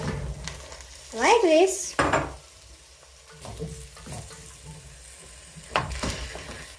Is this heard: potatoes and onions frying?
yes